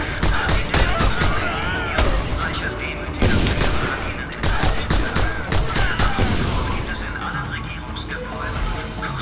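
Heavy gunfire from Just Cause 2 rattles in sustained, loud bursts with booming impacts, close and dense throughout, while voices talk over the shooting.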